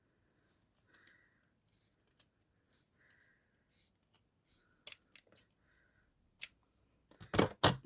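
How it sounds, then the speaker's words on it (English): Sharp snips of fabric scissors cutting through gathered ribbon ends for a no-sew hairbow, a few quiet isolated cuts followed by a louder burst of close snipping near the end. "I'm going to take my fabric scissors"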